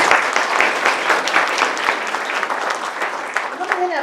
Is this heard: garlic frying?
no